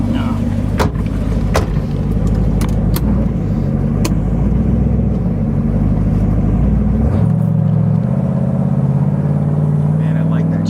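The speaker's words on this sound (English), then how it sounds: "Man, I like that chambered exhaust." A 1970 Chevrolet Chevelle SS with its original 396 V8 and chambered exhaust idles loudly and steadily nearby, the rumble shifting down partway through as voices talk over it.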